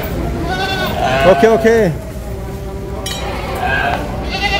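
A sheep bleats once with a wavering cry at a sheep slaughter site, close and clear, while someone talks over and around it.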